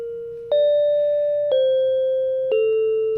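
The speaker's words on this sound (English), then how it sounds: "that's just the sound of the synth itself." Solo synthesizer with no effects plays three sustained tones, each struck about a second apart with a sharp attack and a clean, steady pitch that slowly decays, heard alone and fairly loud.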